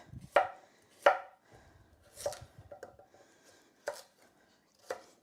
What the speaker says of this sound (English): cut these so they look the same size as the potatoes